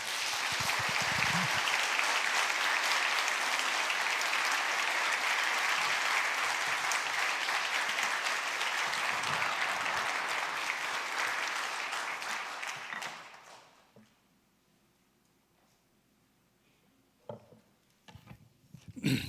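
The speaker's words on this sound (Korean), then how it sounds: "우리 감사의 박수로 환영의 박수로 맞이하겠습니다." A church congregation applauds loudly to welcome a visiting pastor, a dense, sustained roar of clapping filling the sanctuary for about thirteen seconds before dying away into near quiet with a few faint sounds.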